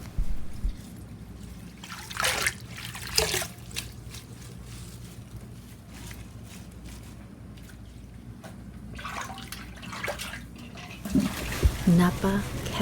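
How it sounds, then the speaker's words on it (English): Cold water sloshing and trickling as vegetables are washed by hand and drained through a colander, with irregular splashes and bursts near and loud, and a voice talking over part of it. "Wash 3 times in cold water before draining with a colander."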